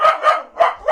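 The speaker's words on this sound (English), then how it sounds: "He's just doing his thing. He's just a dog." A dog barks repeatedly in a loud, close, rhythmic series of about four sharp barks, with no talk over them.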